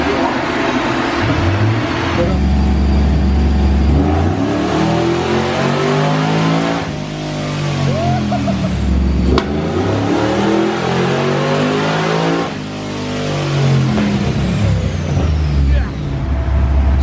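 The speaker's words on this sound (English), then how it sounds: "then they're gonna do some dyno pulls" A nitrous-equipped car is run on a dyno, its engine revving loudly and continuously through several long pulls with rising and falling pitch, loud and close throughout.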